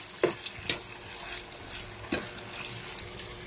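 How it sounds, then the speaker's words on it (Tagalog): Carrots and potatoes are stir-fried in a pan, a soft sizzle broken by a few sharp scrapes and clinks of a utensil against the pan. "simulan natin sa pag-stir fry ng carrots at patatas"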